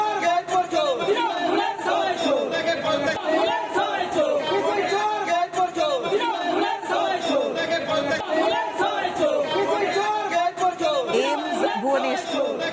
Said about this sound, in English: the crowds present there broke into chor chants to jeer the TMC leader